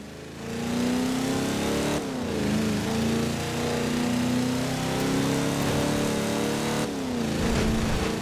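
Ford Mustang driven in Forza Horizon 4 in wet weather, its engine holding a steady loud drone with a brief dip and gear change around two seconds and another near seven, rain-like hiss underneath, no talking.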